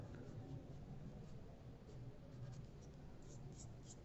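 A mechanical pencil shades lips on drawing paper, a soft continuous scratching of graphite strokes, close and quiet, with short rhythmic passes and no talking.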